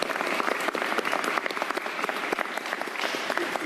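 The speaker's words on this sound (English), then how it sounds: "But I'm glad you got your round of applause." Brief, lively applause fills a press conference on Sandy recovery, dense clapping with a few sharper claps poking through, loud and close, with no voices over it.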